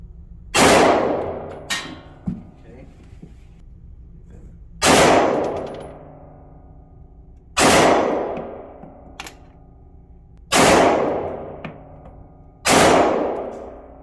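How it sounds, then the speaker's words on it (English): Five loud, sharp pistol shots from a Smith & Wesson M&P 9mm M2.0 Performance Center ring out at a shooting range, spaced a couple of seconds apart, each with a short ringing decay and faint metallic clinks of ejected brass between them. "Okay, let's take our first shots."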